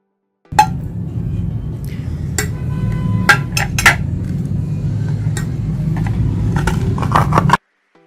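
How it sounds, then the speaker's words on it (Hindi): Hard scraping and clinking of a utensil against plates, scraping off dried gram flour, with irregular sharp scrapes and taps over a steady background hum, close up. "इसके बीच में से मैं सारा जो बेसन है वो खुरच के उतार लूंगी"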